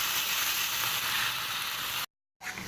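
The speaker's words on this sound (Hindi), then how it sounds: "2 से 3 घंटे हो गए हमारे चिकन को मैरिनेट हुए हुए। अब हम इसको फ्राई करेंगे।" Marinated chicken fries in a pan with a loud, steady sizzle that holds evenly, then cuts out briefly before the hiss returns near the end.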